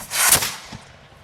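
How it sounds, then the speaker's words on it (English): A single sharp, booming cannon blast erupts at a demonstration and quickly fades into a short rumbling echo. "there's only 3 commands to fire this cannon"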